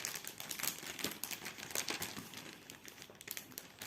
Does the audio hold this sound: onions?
no